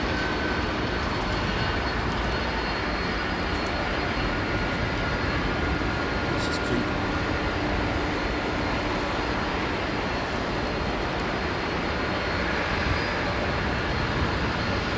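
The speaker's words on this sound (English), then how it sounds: "So he has been given clearance for takeoff." An airplane at London Heathrow Airport rumbles as it takes off, a steady, fairly distant roar with a droning engine whine that holds at a constant level throughout.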